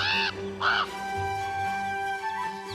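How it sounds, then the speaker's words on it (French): A crow gives two harsh caws in quick succession, close and clear, followed by quieter background sound. "Parmi les oiseaux qui peuplent les grandes plaines d'Amérique du Nord, il y a le corbeau."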